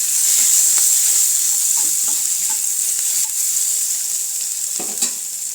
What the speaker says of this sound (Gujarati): તો તેલ આપણે ગરમ થઈ ગયું છે તો તેમાં આપણે વઘાણી ઉમેરી દઈશું। તેની સાથે આદુ મરચાંની પેસ્ટ છે તે ઉમેરી દીધી છે।